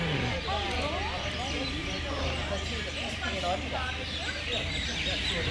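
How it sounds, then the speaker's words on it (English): Birds calling and chirping at night in Jamestown, St. Helena, a dense chorus of overlapping chirps at moderate distance, steady throughout over a low background hum. "In Jamestown, listen to the sound of birds"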